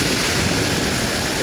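Heavy rain with rushing floodwater outdoors in Malaysia, a loud dense continuous roar and hiss filling the whole stretch with no speech.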